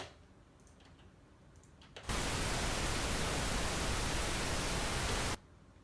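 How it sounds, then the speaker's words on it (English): A loud, steady burst of pink noise switches on abruptly, holds for a few seconds, then cuts off, with a faint quiet hiss before and after. "there I get a nice clip of pink noise"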